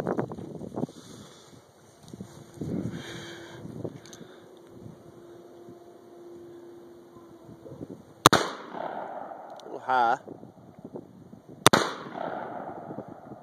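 Two sharp, loud gunshots firing jacketed soft point rounds ring out outdoors a few seconds apart, each a sudden crack with a short decaying echo, following a quiet stretch of wind and low background noise.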